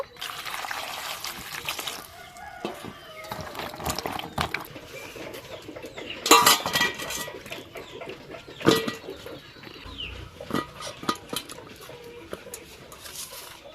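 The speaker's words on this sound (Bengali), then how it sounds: "এবার পটলগুলো ধুয়ে নেব" Cut pointed gourds being washed in a bowl of water, with soft splashing, trickling and rubbing close by, occasional knocks against the bowl, and birds chirping faintly in the background.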